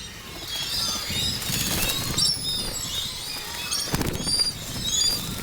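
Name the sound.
seabirds flapping wings while taking off from the sea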